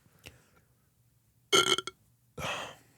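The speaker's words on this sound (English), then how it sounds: "Ah, that's my burp." A short burp-like sound bursts out after a brief pause, followed by a second longer, breathy rasp, both close and fairly loud in an otherwise quiet room.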